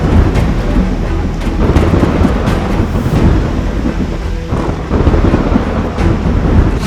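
A heavy thunderstorm during an approaching cyclone in Odisha: steady loud rain with gusting wind and low thunder rumbles rolling continuously throughout, no voices.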